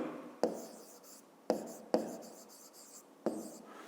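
Pen or chalk writes out a fifth-grade math exercise in short bursts of scratchy strokes, each stroke beginning with a tap, close up and moderately quiet, with faint murmuring in the background.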